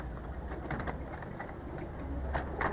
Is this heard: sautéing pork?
no